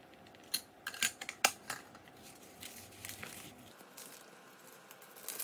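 Two sheets of newspaper are rolled up from the edge into a tight ball for a homemade bowling game, giving a run of sharp, dry crinkles and crackles close by, loudest early and then settling into softer rustling, with no talking.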